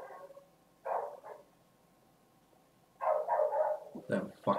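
A dog barks in the Mark of the Ninja video game, in two bursts of muffled barks with a pause between them, over a quiet, steady game background.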